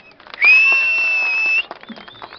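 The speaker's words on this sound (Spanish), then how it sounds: "¡El aplauso para el de blanco!" A crowd at a Mexican ranchero shout contest gives scattered applause, and a long sustained high whistle or shrill cry rings out over it for about a second before the clapping trails off.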